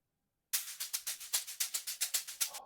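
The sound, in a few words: amapiano shaker loop sample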